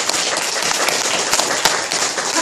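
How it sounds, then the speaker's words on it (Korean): A church congregation breaks into applause, dense overlapping hand claps filling the room at steady loudness, with no speech over them. "우리 이분들 축하해서 박수 드리겠습니다"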